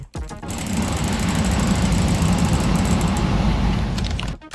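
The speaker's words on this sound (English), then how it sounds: "if you put a head on a note block, it now makes the sound of that mob" A harsh, buzzing mechanical rattle plays steadily for a few seconds from a Minecraft note block topped with a mob head, then cuts off abruptly.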